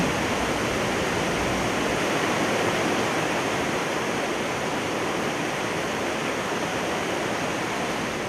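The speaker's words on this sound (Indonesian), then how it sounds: "Menikmati sensasi gemericik air terjun" Water pours steadily in a dense, unbroken rush from a nearby tiered waterfall at Merangin Geopark, Jambi, with no voices or other distinct sounds.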